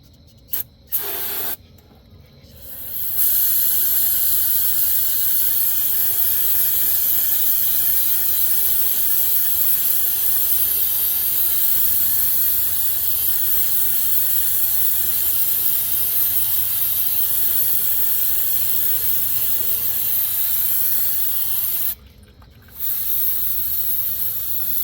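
A steady, loud aerosol spray hissing continuously for about twenty seconds, with brief short bursts at the start and a short pause near the end.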